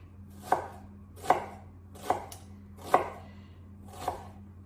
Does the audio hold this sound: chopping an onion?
yes